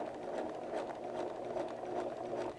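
Home sewing machine stitching a curved seam, a quiet, fast, even mechanical whir with a soft rhythmic pulsing of the needle, running alone and close for a few seconds.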